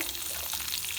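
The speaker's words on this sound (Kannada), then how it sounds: "ಆನಿಯನ್ನು ಮತ್ತು ಹಸಿಮೆಣಸು ಹೆಚ್ಚಿಟ್ಕೊಂಡಿರೋದು ಇಷ್ಟನ್ನು ಹಾಕಿ, ಆನಿಯನ್ ಸ್ವಲ್ಪ ಫ್ರೈ ಆಗಲಿ" Chopped onion and green chilli frying in a pan for a raw banana palya, a steady close sizzle with crackling hiss, no voices.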